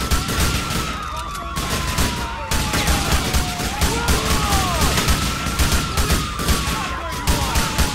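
Rapid bursts of gunfire in Grand Theft Auto IV during a bank robbery shootout, crackling densely over a wailing police siren, with dense clatter throughout and no talk.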